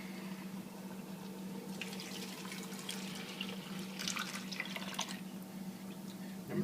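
Clam juice being drained from cans, a faint, thin trickle and splashing of liquid that swells briefly in the middle, heard quietly over a steady low hum.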